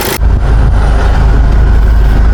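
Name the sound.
Kia Sportage 2.0 CRDi diesel engine running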